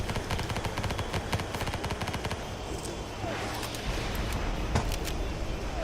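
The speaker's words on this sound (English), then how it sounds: "Whoa, artillery is landing everywhere!" Artillery shells land in the video game Ancient Warfare 3 amid loud, rapid bursts of gunfire and dense, continuous crackling blasts throughout.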